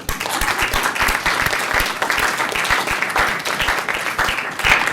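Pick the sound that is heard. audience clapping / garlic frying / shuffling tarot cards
audience clapping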